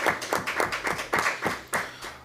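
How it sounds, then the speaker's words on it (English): A handful of people clap in a loose, uneven rhythm at a school athletics championships press conference, roughly ten distinct close claps over two seconds, thinning out toward the end. "I would like for us to give them a round of applause for continuing supporting the championships"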